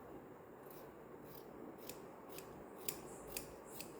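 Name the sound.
scissors cutting fabric for an A-line kurti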